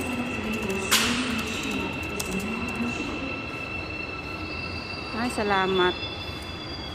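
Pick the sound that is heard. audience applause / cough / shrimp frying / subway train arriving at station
subway train arriving at station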